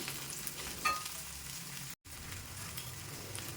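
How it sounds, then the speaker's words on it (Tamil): Colocasia (arbi) pieces frying in oil over a medium flame, a steady soft crackling sizzle with a brief scrape partway through and a momentary cut of silence. "மீடியம் ஃப்ளேம்லேயே வச்சு நல்லா ரெண்டு பக்கமும் திருப்பி போட்டு இந்த சேப்பக்கிழங்கு ஃப்ரை பண்ணிக்கலாம்"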